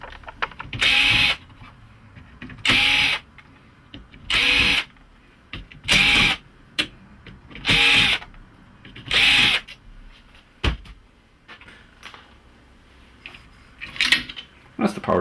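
Screws are backed out of the power supply board of a Hisense LCD32W57 TV with a power screwdriver, six loud close whirring bursts about a second each, evenly spaced, followed by a few lighter clicks and handling noises.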